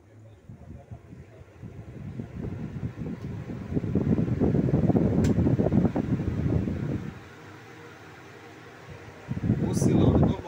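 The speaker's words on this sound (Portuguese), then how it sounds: "ventilador montado. Aqui está ele. Vou ligar para vocês verem como que ele ficou ultra, super forte e bom." Britânia electric fan, just repaired after being jammed, running with a steady airy whoosh that swells and fades as it oscillates side to side, fairly close and loud.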